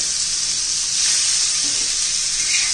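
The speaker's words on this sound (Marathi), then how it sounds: "आता याच्यामध्ये आपण टोमॅटो घालू त्या तेलामध्ये." Tomatoes hit hot oil for an Andhra-style chutney, giving a loud, even, close sizzle that holds steady and swells a little as they settle in.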